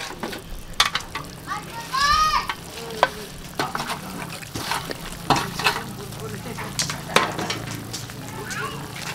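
Marinated beef with kangkong sizzles in a pan while being stirred, with crackling fat, scraping utensil clatter and a voice talking intermittently over the cooking.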